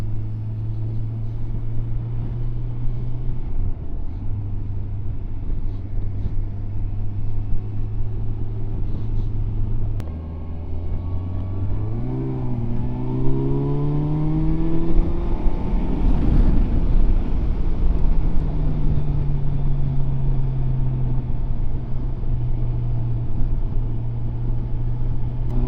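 A Kawasaki GTR 1400 touring motorcycle's engine drones steadily and close up while riding, holding a smooth, even note before the revs climb and fall around the middle, all under constant wind rush.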